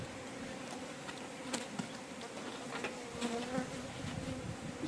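Honeybees swarm and drone steadily around a wooden beehive and its decoy hive during smoke treatment, a dense continuous buzz with a few louder passes close by.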